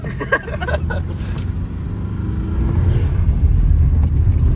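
A car drifting, its engine droning loud and close with a rough low rumble that swells toward the end, plus a few faint scraping sounds early on.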